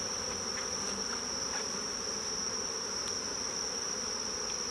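Honey bees buzz around an opened beehive during a honey harvest, a steady, faint, continuous hum with no talking.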